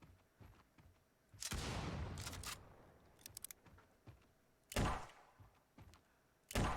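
A hellish double barrel shotgun fires in a video game, several loud blasts with booming tails, spaced irregularly between quieter thuds and clicks.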